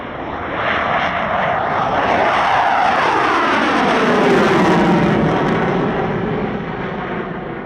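An RAAF FA-18A Hornet from 75 Squadron flies a solo airshow display at Wings Over Illawarra, a loud continuous jet roar that swells and shifts in pitch as the aircraft passes.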